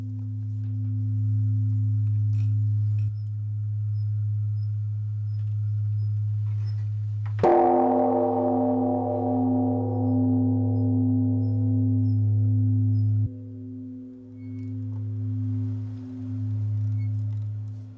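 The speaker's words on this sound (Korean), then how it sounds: "암자 마당에도 범종의 은은한 울림이 가득하다." A large Buddhist temple bell at Seongjeonam, a mountain hermitage on Yeohangsan, is struck once at evening and blooms into a rich, slowly fading hum over a steady low drone.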